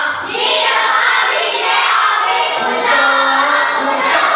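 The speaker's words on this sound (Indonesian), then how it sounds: "Oke, terima kasih, tepuk tangan" Classroom applause for a sixth-grade pupil named Ella, a sustained burst of many hands clapping together, loud and close, holding steady for several seconds.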